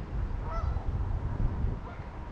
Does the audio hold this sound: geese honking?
yes